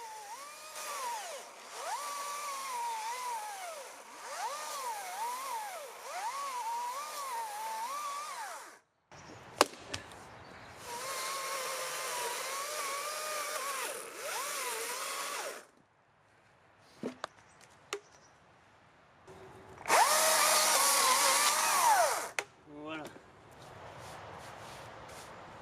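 A small electric chainsaw cuts firewood with knots in it, whining in three separate bursts, its pitch wavering as it bites into the wood, with quiet gaps and a few clunks between cuts.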